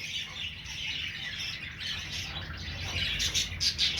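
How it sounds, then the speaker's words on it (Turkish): Dense chorus of budgerigars in a 40-cage breeding aviary chirping and chattering together, continuous and close, with brighter squawks near the end. "40 kafeslik yerli muhabbet kuşu üretimhanesi"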